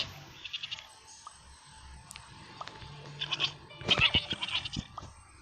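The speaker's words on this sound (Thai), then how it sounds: "เสียงแกะ" Sheep bleating in the video game Mini World, a few short cries in the middle of the clip over a faint game background, with no talk.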